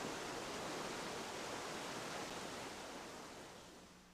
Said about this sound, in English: Breathtaking waterfalls.